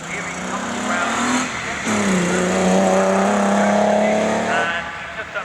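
A four-wheel drive rally car at the Prescott hillclimb revs hard and accelerates past, its engine note climbing loudly and then fading as it moves away, with a commentator talking over it.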